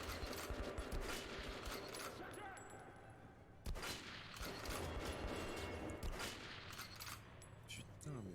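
Dense automatic gunfire from Metro Last Light fills the whole span, near and loud, with bursts layered over a steady roar, one brief dip in the middle, then continuing.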